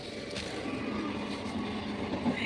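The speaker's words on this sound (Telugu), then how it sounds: "ఈ ట్రైన్లు అన్నీ కలిసి వెళ్ళిపోతుంది చూసారా" A train rumbles past at steady loudness, a continuous low roar with faint rhythmic rattling of wheels on track throughout.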